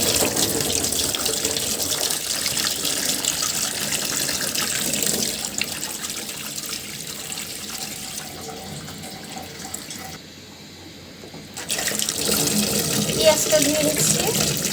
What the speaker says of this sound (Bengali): মরিচটা ধুয়ে নেব।